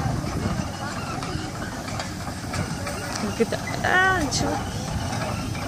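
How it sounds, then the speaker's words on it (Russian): A steam traction engine at a threshermen's museum puffs and hisses in a steady rhythm, with a brief squealing whistle near the middle, while someone speaks over it outdoors. "В этом году вот какой-то паровой трактор решили запустить."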